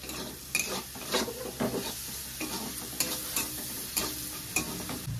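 Salted onions sizzle in a pan, with a continuous frying hiss broken by repeated scraping stir strokes at a fairly even rhythm, moderately quiet and without voices.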